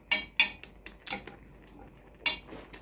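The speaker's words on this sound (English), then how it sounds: "push it in so that it absorbs the flavor from the liquid in the pot" A utensil presses Indomie instant noodles down into a cooking pot of liquid, making a few light metallic clinks and taps against the pot, sparse and fairly quiet, with no voices.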